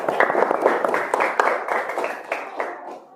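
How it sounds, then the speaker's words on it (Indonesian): A classroom of students claps briefly for a classmate, a short burst of scattered hand claps with a few sharper slaps standing out, fading toward the end. "kasih tepuk tangan untuk Hasyim."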